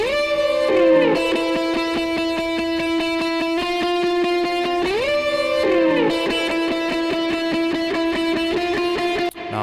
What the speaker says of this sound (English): we've got like a electric guitar lead that comes in